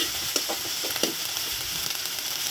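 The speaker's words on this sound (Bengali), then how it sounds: "এখন দিয়ে দিয়েছি পেঁয়াজ আর ওই যে শুটকি মাছগুলো একসাথে তেলে কষিয়ে নেব।" Onions and dried fish fry in hot oil with a bright, steady sizzle, broken by several light spoon stirs and scrapes, close up and with no voices.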